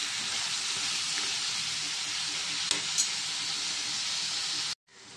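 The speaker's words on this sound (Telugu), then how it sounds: "ఇదిగోండి వంకాయ కూడా బాగా మగ్గిపోయిందండి" Brinjal pieces cooking in a pan make a steady, even sizzle and hiss with a couple of soft stir clicks, then cut off abruptly near the end.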